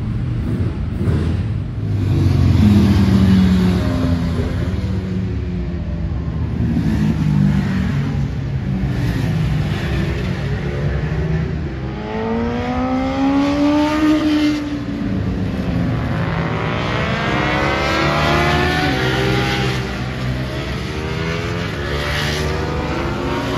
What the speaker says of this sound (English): my BMW S1000RR has got an Akropovich very short exhaust system on it